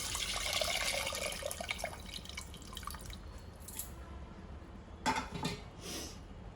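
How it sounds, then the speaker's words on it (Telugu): Water is poured into a tamarind onion egg curry (pulusu) in a pan. A soft splashy trickle comes first, then a quieter pause and a couple of brief dripping splashes, heard close and alone. "చింతపండు ఇంకొంచెము నీళ్లు పోసేసుకుందాం."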